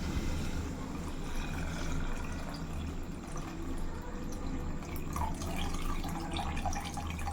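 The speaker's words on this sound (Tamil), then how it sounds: "இந்த கறி தண்ணி இருக்குதுல்ல வேகன தண்ணி அதை அப்படியே இதில் மிக்ஸ் பண்ணிக்கலாம்" Beef curry cooking water poured into a simmering gravy makes a steady, continuous liquid trickle and splash, fairly close and even throughout, with no talk over it.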